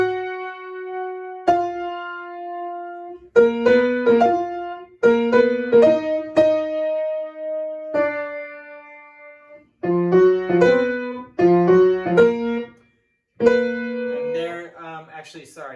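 Two piano melodies, a Chopin waltz line and an original tune, play together in clear harmonic phrases with several pauses between short groups of notes, close and fairly loud, with no talking.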